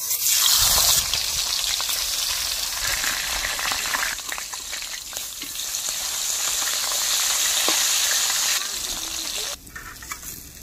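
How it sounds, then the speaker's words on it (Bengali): Hilsa fish heads rubbed with salt and turmeric fry in hot mustard oil, giving a loud, continuous sizzle that rises and falls as they are stirred. The sizzle cuts off abruptly near the end. "তেল গরম হয়ে গেলে ইলিশ মাছের মুড়োগুলো তেলে ভালো করে ভেজে নেব"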